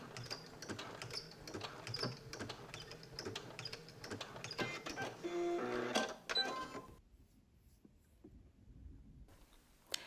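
A sewing machine back stitches a knit dress seam in a rapid mechanical clatter of needle strokes, moderately close, that ends in a brief pause and a few light clicks.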